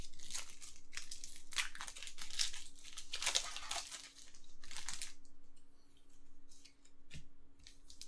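Foil Pokémon card packets from Paldean Fates mini tins are torn open and crinkled up close, in short bursts of ripping and crackling with quiet gaps between them.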